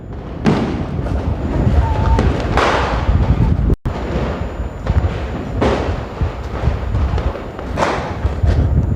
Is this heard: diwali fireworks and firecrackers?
yes